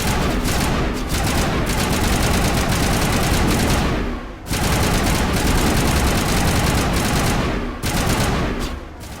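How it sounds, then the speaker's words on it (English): Assault rifle fire in the video game Mass Effect, loud sustained automatic bursts close up, broken by two brief pauses, dense and continuous with no talking. "these assault rifles aren't exactly very accurate. But do pack a good punch"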